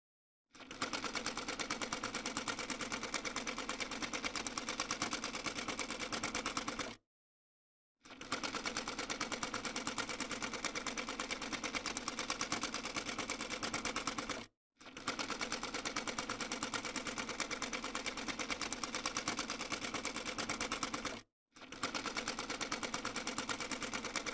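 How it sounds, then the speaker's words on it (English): Sewing machine stitching lace trim and a hem onto white fabric for a bubu dress, running in four long steady bursts of rapid, even whirring with brief pauses between them, close and alone with no talk. "I'll sew it down on the white fabric only"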